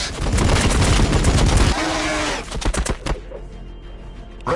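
Rapid bursts of weapon fire in a video game, loud and dense for about two seconds, then scattered single shots trailing off into quieter sound.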